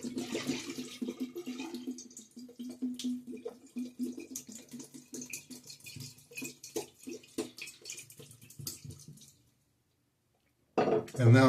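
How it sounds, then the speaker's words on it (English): A shaving bowl is rinsed and scrubbed under running water, with clattering knocks and splashing for about nine seconds, then a short silence before another burst of water; a voice speaks faintly during the rinse. "I'm going to go ahead and clean out my bowl"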